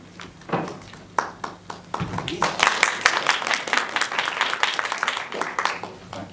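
An audience at an academic talk breaks into applause for an incoming speaker. It starts with a few sharp, isolated claps and then builds into dense, sustained clapping from many hands that lasts several seconds.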